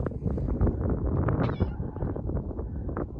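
A cat meows outdoors at a camp in Quartzsite, Arizona, giving short, close, strained calls over rough wind noise on the microphone.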